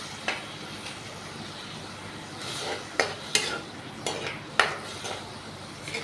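Chopped onions and garlic sizzle in a pan while being stirred. The frying hiss runs throughout, and a utensil knocks and scrapes sharply against the pan about half a dozen times.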